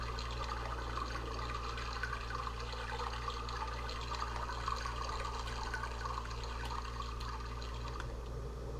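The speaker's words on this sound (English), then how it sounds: "So it seems to be capturing the water sound." Water in the RealMyst video game makes a steady, continuous flowing and rushing wash with a low rumble beneath it, even in level throughout, with no talking.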